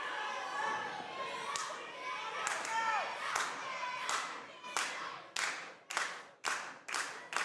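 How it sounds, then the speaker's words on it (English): A wrestling crowd at a CWF championship event claps in unison, sharp regular claps quickening toward the end, mixed with chanting and crowd voices in an indoor venue. "This crowd chanting, clapping their hands."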